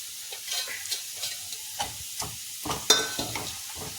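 Cumin and onion sizzling in hot oil as asafoetida is added, a soft crackling fry with small pops and a few louder spits, faint and close.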